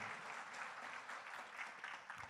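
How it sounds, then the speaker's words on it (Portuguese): A church congregation claps for Jesus during a worship service, heard as a continuous wash of applause from a crowd, steady and fairly distant, with no clear speech over it. "Aplauda Jesus bem forte para Ele"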